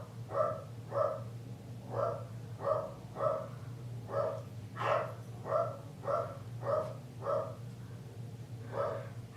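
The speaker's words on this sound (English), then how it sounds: "if he hears one of my dogs bark, he feels the need to bark for a while" A single dog barks over and over at a steady, regular rhythm, moderately distant, above a low constant hum.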